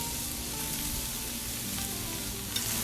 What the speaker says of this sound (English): Our pan is nice and hot, and we're gonna put the onions and the garlic in here.